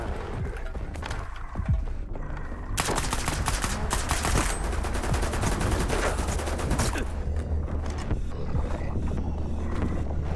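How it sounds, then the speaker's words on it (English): Heavy gunfire in S.T.A.L.K.E.R. 2: Heart of Chornobyl during a tough boss fight, with dense bursts of automatic shots that swell after a quieter opening and stay loud and continuous for most of the stretch. "Every time I go to shoot him"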